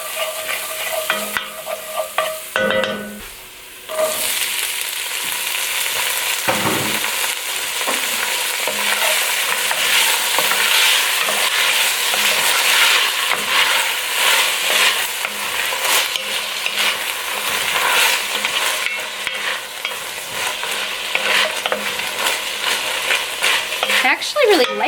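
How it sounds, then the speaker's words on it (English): Garlic, beans and oil sizzle steadily in a pan while being stirred, with a constant loud frying hiss and occasional scraping of the spoon, close up and with no talking. "So we are sizzling."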